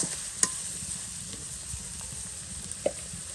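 Chopped onion sizzles in hot mustard oil with garam masala, a steady close frying hiss broken by a few sharp clinks and scrapes of a stirring spoon.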